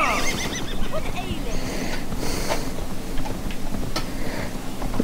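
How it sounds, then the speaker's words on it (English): A horse neighs and its hooves clop in Assassin's Creed Valhalla, with whinnies over a rhythmic clip-clop under a busy game soundscape. "we're gonna have to get on our horse"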